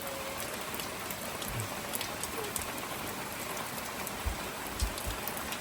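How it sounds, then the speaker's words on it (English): Heavy rain pours steadily during a storm, a dense unbroken hiss with occasional heavier drips and splashes where overflowing gutters spill onto a covered deck, close and constant with no voices. "It's just raining so much the gutters can't even really keep up with it."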